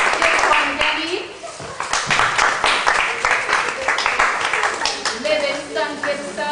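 A room of people claps for a child named Darren brought up to the front, applause running continuously with bursts of talk and children's voices mixed throughout.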